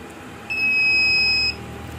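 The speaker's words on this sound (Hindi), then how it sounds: "सेम इस तरह बीप आएगी, जैसे इस तरह बीप आएगी" Dahua DVR emitting one loud, steady electronic beep that lasts about a second during a full reset, with faint background hum before and after.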